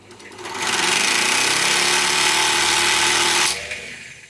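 A Singer 190 sewing machine whirs at high speed for a few seconds, a loud steady mechanical hum winding a bobbin, then abruptly stops.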